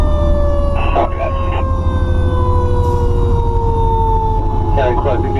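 Federal Q mechanical siren on a fire truck wailing loud and close throughout, a steady rising-and-falling tone under heavy engine and road rumble as the truck arrives at an emergency scene, with a few brief radio voices over it.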